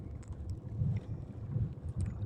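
Gusty wind along the Manila Bay boulevard at a fishing spot, where the waves are rough, rumbles low and buffets the microphone in uneven surges.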